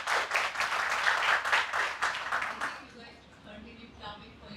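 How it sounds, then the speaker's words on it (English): Applause from a tech meetup audience after a panel discussion, steady dense clapping that fades out after about three seconds, with faint voices left underneath. "Continue clapping for yourself because you guys came out on Sunday. So we give a big round of applause."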